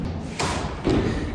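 A door being checked, with two dull thuds about half a second apart and a faint rattle, close by and alone.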